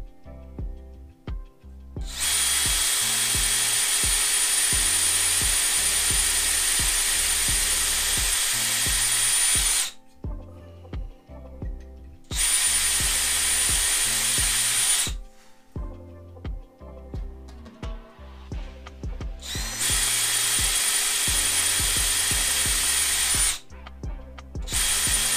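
A power drill bores through a sacrificial block of wood laid over a mat, running in several loud sustained bursts separated by short pauses, with no talking.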